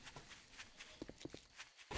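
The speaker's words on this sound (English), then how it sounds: "I'm really glad you can hear the footsteps of approaching threats" Footsteps of a feral burn zombie approaching in the survival game 7 Days to Die, a few soft, thudding steps near the middle, fairly quiet against background game ambience.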